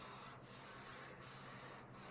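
A hand rubs steadily across rough, sandpaper-textured paint on the body of a 1942 Dodge WC-53, a close, continuous scratchy hiss with a few brief dips as the strokes change.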